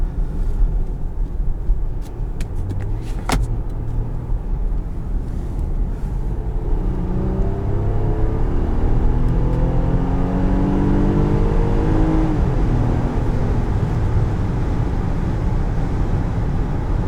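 A 2022 Infiniti QX60 Pure with a naturally aspirated V6 and nine-speed transmission accelerates on the road, its engine note rising and droning steadily under cabin road noise, no talking.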